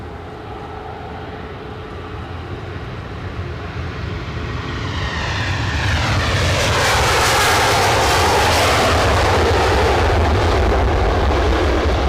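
An airliner at Edinburgh airport takes off, its engines building from a low rumble into a loud, broad roar with a sweeping whine as it passes close by and holds at full power. No one speaks.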